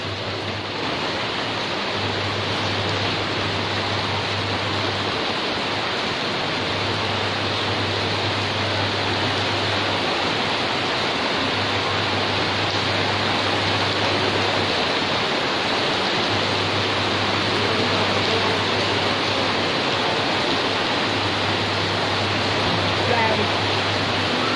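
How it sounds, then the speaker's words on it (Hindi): Heavy rain pours down outside a balcony during a downpour that floods the ground below, a dense, steady hiss and roar that holds constant throughout. "देखिए बाहर कितनी तेज़ बारिश हो रही है और नीचे कितना सारा पानी भर गया है"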